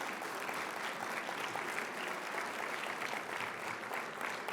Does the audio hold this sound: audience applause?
yes